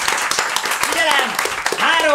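Audience applause at an improv theatre show in Pécs, a steady broadband clatter of many hands filling the whole moment, with voices and cheers rising through it.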